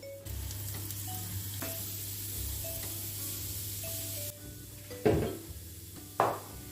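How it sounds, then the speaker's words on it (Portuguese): Cauliflower rice tumbles into a pan of browned, sautéed onion and sizzles steadily, a constant frying hiss interrupted near the end by two sharp scrapes of stirring against the pan. "aí eu vou adicionar aqui o arroz de couve-flor"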